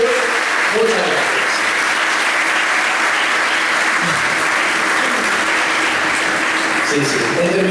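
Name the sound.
audience applause for event sponsors and organizers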